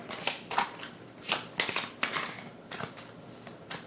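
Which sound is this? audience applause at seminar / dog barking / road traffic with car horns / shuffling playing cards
shuffling playing cards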